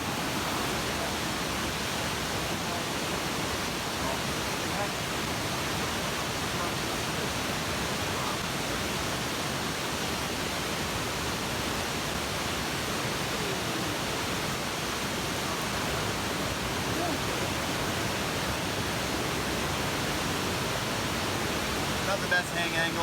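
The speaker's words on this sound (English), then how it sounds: "you can see the creek right behind" A mountain creek runs steadily behind a hammock campsite on the Appalachian Trail in the Great Smoky Mountains, a constant broadband rushing of water that stays even and unbroken throughout.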